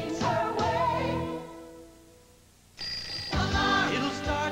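An alarm clock rings in a TV commercial, with bright, jangling ringing in bursts and a dip in the middle, set against a busy backdrop of music.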